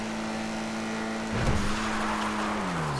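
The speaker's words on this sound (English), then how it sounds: "106 miles per hour seems to be the top speed of this car" A tuned Emperor Vectre sports car in a street-racing video game holds its top speed of about 106 mph, a loud steady engine drone that surges in a brief rush of road noise before settling again.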